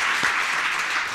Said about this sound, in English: A round of applause for Gary for being very brave.